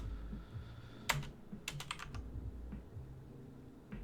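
Computer keyboard typing while building a React chat interface: soft ambient hum with a sharp key press followed by a quick cluster of clacks, then sparse faint taps.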